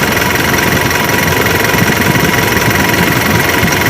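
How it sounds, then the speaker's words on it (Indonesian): Close by, the engine of a Mitsubishi Canter Euro 4 truck runs at an even idle while the fan clutch engages and the cooling fan roars harder, making a continuous dense whoosh over the motor's rumble, with no talking. "Tapi itu hanya permainan dari fan clutch-nya saja."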